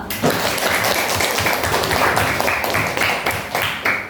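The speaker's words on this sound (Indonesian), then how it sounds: "kita ucapkan aplaus dulu untuk setiap kelompok" A classroom of students claps for each group in an Indonesian school lesson, a dense, steady burst of hand clapping close by that holds for a few seconds and then tapers off.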